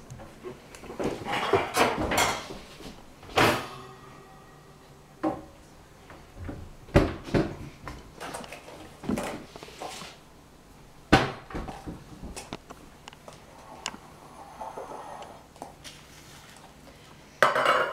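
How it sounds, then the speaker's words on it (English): Metal baking trays and pans clatter and clank while being pulled out of a kitchen cupboard for cupcakes, with scattered sharp knocks, scrapes and rattles arriving in irregular bursts close by. "And I'm going to get some baking trays."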